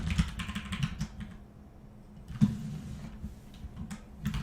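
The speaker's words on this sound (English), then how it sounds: "I'll try to be quieter on the keyboard, sorry about that" Steady typing on a computer keyboard during a finance lesson on valuing IBM: rapid, close clicking runs with a few louder key strikes and a brief lull near the middle, and no voice over it.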